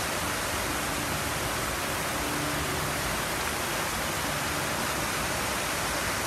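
The light-and-music fountain in Tsaritsyno Park, Moscow, gives a dense, unbroken roar of falling and spraying water, loud and constant throughout.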